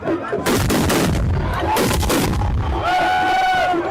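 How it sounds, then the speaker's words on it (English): Musketry salute volleys at a traditional festival, several loud broadband gun blasts cracking close together over crowd noise, followed by a whistling, tonal sound near the end. "One common characteristic of festivals is the firing of musketry"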